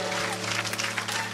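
A congregation at a revival meeting in Evry applauds in a dense, steady wash of clapping and crowd noise, with a sustained musical hum running underneath throughout.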